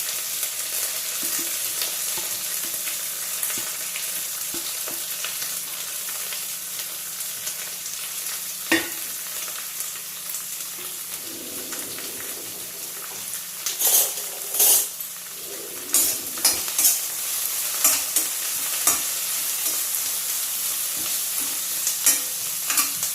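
Chopped onions, coriander and curry leaves fry in hot oil with a steady sizzling hiss, broken by a spoon stirring and scraping against the pan, with no talking.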